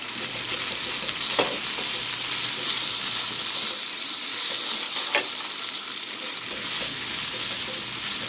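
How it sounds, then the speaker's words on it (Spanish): Food browns and sizzles in fat in a pan, a steady crackling fry that carries on throughout with a few sharper pops and stirring scrapes, fairly close. "se hizo bien grasosito, se está dorando"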